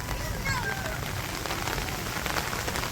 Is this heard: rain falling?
yes